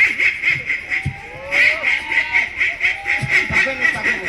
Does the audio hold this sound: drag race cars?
no